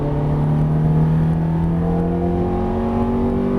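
Ferrari F430 engine on a track, droning loud and steady with a pitch that climbs gradually, as a single continuous run close by.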